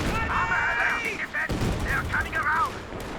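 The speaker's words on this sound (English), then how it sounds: "Sounded like a bottle grenade, not a ranger's grenade." A bottle grenade blows up with a sharp, booming burst on a Company of Heroes 2 battlefield, set among other gunfire and explosions, while a commentator talks over the action.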